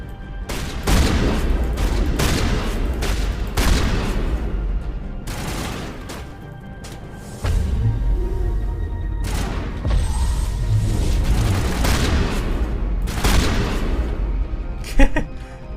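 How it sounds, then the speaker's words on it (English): Gunfire in Mass Effect on the planet Noveria: repeated loud shots and heavy booming bursts over a dense battle din, fired in quick clusters with a few short pauses, while someone talks over part of it. "that gunshot is loud in my ear"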